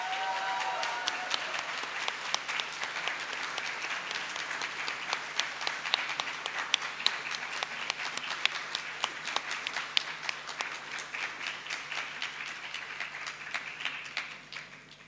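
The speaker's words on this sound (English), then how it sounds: "Let's give a big round of applause." Large audience applause in a hall at IIT Delhi for a talk and meditation event, a long continuous wash of dense clapping that holds steady before tapering off at the end.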